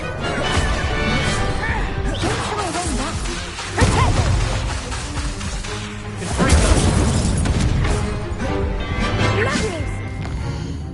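A fire spell is cast during a magic duel in the Hogwarts Legacy video game, giving loud crashing bursts and booms over a busy game soundscape, with a voice speaking at times.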